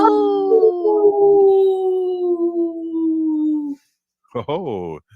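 A long, steady wolf-style howl slowly falls in pitch and fades, followed after a short pause by a shorter wavering howl. The howls are loud and close and appear to be a human voice imitating a wolf call.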